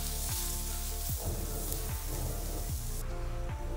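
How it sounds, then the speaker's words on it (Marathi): Onions frying in a pan, three of them being browned to golden for a Maharashtrian goda masala: a steady, close hiss of sizzling with a few soft knocks, no talking. "बघा आता हा कांदा आपला भाजत आलाय, अजून थोडा भाजला गेला पाहिजे।"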